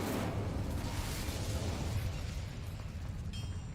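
A fire spell is cast in the video game Hogwarts Legacy, giving a short, dense whooshing burst that fades over a few seconds, heard alone.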